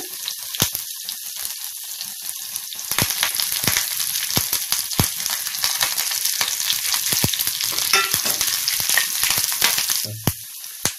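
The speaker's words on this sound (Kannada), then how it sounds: "ಖಾರ ಫಸ್ಟ್ ಮೆಣಸಿನಕಾಯಿ ಹಾಕೊಳ್ತಾ ಇದ್ದೀನಿ ಮತ್ತೆ ಶುಂಠಿ ಮತ್ತೆ ಕರಿಬೇವು ಸ್ವಲ್ಪ ಪೀಸ್ ಮಾಡಿ ಹಾಕ್ಕೊಳ್ಳೋಣ" Chillies, ginger and curry leaves fry in a pan in oil, crackling and sizzling steadily up close, with sharp pops and the odd stirring scrape, alone without talk.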